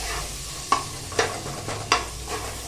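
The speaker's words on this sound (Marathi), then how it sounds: "कांदा छान सोनेरी रंगावरती परतून घ्यायचा" Chopped onion frying in a pan for Khandeshi masala khichdi, a steady soft sizzle broken by four sharp scraping strokes of a spoon stirring it, close by with no talk.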